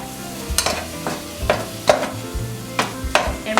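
Meat and cabbage browning in a pan for egg rolls, an even close sizzle broken by repeated sharp scrapes and taps of a utensil stirring the pan.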